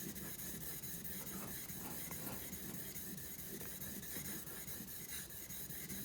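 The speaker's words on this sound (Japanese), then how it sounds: "こうやって刃裏を研いで確認して" A wood carving chisel having the back of its blade sharpened by hand on a stone, a faint, steady back-and-forth rubbing and scraping that continues evenly with no voices.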